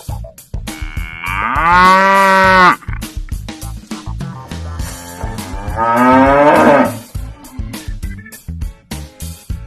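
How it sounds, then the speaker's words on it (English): Two long, deep cow moos, loud and close, separated by a pause, with some rustling and thumps between them. "Cow"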